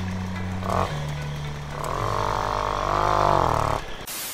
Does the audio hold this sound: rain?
no